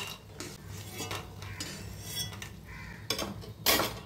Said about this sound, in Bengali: তেল থেকে তুলে নিচ্ছি